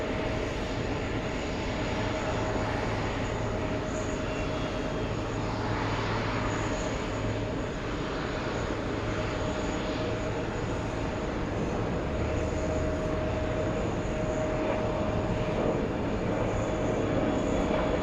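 An Airbus A330 from Barcelona rolls on the runway, its engines producing a constant loud rumble with a thin steady whine, unbroken for the whole stretch.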